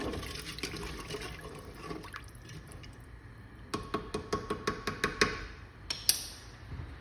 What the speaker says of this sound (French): Et je vais recouvrir le tout d'eau. Voilà. Je vais remuer.